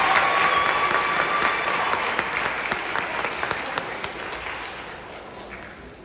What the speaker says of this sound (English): Please give them one more round of applause before their last piece.